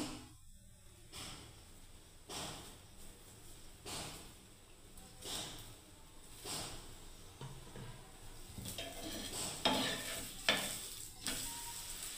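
Spinach paratha fries with ghee in a pan: a continuous close sizzle, with the flatbread pressed and moved around now and then.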